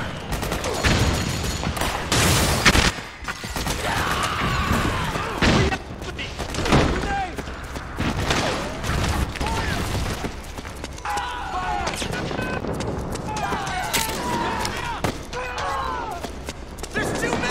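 Gunfire in Metal Gear Solid 4 erupts in repeated loud bursts and sharp volleys, close and chaotic, with thuds and booms scattered across the fight while soldiers shout over it.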